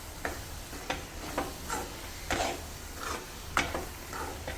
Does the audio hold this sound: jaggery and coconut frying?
yes